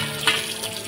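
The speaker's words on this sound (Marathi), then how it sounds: "आपली मच्छी फ्राय करूया" Shingala fish frying in a pan of hot oil, a steady close sizzle with a brief louder crackle near the start, no voices.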